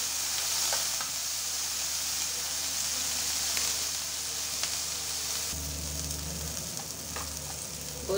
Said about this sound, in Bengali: বন্ধুরা আমার পেঁয়াজ কলিটা ভাজা হয়ে গেছে